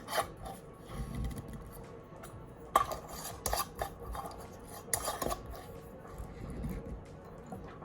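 Glass jars of elderberry and honey with lids put on, handled and tipped upside down on a kitchen counter, giving scattered clinks, knocks and rubbing scrapes, close and moderately quiet.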